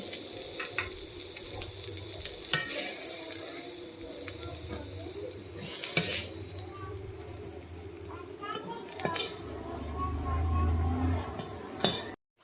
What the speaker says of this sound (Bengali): মাশরুমটা ভাজা হয়ে গেছে আমি এখানে বেশি কড়া করে ভাজিনি